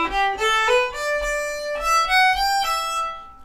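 An Irish fiddle plays a short plain melody without ornamentation, bowed notes stepping upward in a clear, close, fairly loud line lasting a few seconds.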